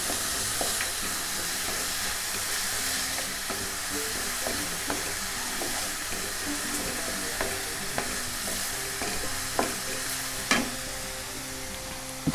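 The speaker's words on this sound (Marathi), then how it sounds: "आता हा बघा चांगला असा परतून घेऊया आपण" Tender jackfruit shoots, Kokan pus bhaji, sizzle softly in a pan while being stirred, with a constant frying hiss broken by light scrapes and taps of the spatula.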